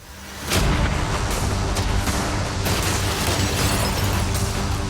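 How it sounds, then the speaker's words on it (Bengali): Cannons fire cannonballs at a yacht in a game, opening with a sudden loud boom followed by a sustained rumbling roar and scattered sharp bursts, with no talking. "দেখা যাক তুমি আগের ফেজ থেকে শিক্ষা নিয়েছো নাকি ক্যানন বলগুলো তোমার ইয়টকে হিট করবে।"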